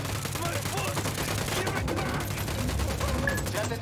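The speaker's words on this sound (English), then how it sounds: "I'm shooting these fuckers." Dense, continuous gunfire fills a firefight in Ghost Recon Wildlands, with overlapping shots forming a steady roar. Voices speak faintly underneath.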